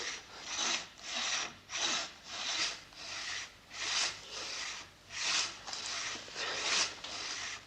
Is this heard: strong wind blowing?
no